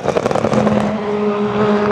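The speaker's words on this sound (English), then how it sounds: "The unburnt fuel vapor would eventually ignite in the extreme heat of the exhaust system" Car exhaust burble from unburnt fuel igniting in the hot exhaust system, a rapid, loud crackling and popping over an engine drone that settles into a steadier tone.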